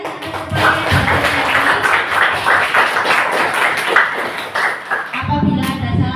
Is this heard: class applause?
yes